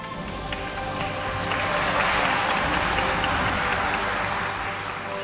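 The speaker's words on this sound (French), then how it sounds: "On peut applaudir." A crowd applauds at a wedding ceremony just after the exchange of rings, a dense, steady clapping that swells slightly and holds for several seconds.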